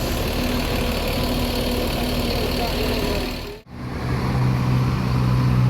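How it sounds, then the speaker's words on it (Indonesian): A Mercedes-Benz 1521 bus engine idles steadily, a loud, constant low rumble close by that breaks off for a moment and then carries on. "ternyata mesin yang digunakan oleh family raya Mercedes-Benz 1521 ya, bukan Hino RK ataupun AK"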